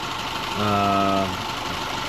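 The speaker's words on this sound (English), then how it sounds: "Engine runs super smooth." 2010 Subaru Forester engine idling smoothly after a timing belt reinstall and valve lapping, a steady close hum with a brief harmonic tone rising over it midway.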